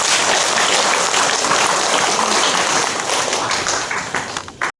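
A crowd claps steadily for several seconds at a Korean church worship service, a dense patter of applause that thins out and stops at the end.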